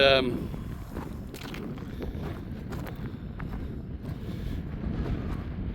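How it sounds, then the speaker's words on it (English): Gusty tailwind buffets the microphone with a constant rumbling roar at an outdoor shooting range, along with scattered footsteps and a voice speaking underneath. "it's windy, no excuses, it's a tailwind"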